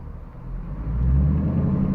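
A 2018 Dodge Challenger with a mid muffler delete, in Miami, gives a deep, close exhaust rumble that swells louder as the engine revs briefly.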